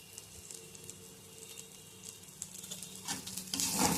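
Oil ladled into a pan of spinach with dal and crushed peanuts sets off a soft sizzle that swells sharply near the end, with faint stirring and no voices.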